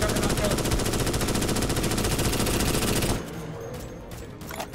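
Sustained automatic weapon fire from Starship Troopers: Extermination rattles loud and continuous for about three seconds, then drops away to quieter scattered game noise, with a player's voice faintly mixed in.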